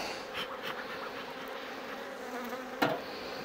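A honeybee queen in a hive sounds among the buzzing of bees, a continuous close insect drone with a few brief louder bursts and one sharp knock near the end.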